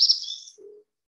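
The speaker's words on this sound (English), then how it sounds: "here's a very common bird, an eastern phoebe, all fluffed out" A single eastern phoebe calls nearby: a bright, high buzzy note followed by a brief lower tone, one short clear call on its own.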